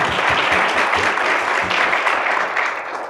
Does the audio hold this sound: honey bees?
no